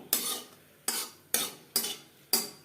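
Three dried red chilies frying in mustard oil for a tempering, heard as five evenly spaced sharp scraping strokes in the pan that each fade into a brief sizzle, close and quiet, with no talk.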